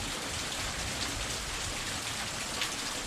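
Steady rain falls outside in a continuous even hiss, with no other sounds standing out.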